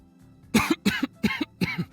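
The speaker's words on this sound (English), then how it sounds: "only to be interrupted by a cough" A character in a sci-fi visual novel game coughs four times in quick succession, short harsh bursts evenly spaced and close up, with no other sound around them.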